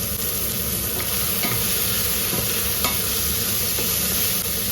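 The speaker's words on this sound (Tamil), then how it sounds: "2 நிமிஷத்தில் வதங்கிடுதுங்க வெங்காயம்." Onions with curry leaves, green chillies and salt sautéing in a pan, a dense steady sizzle close by with faint scraping stirs and small pops throughout.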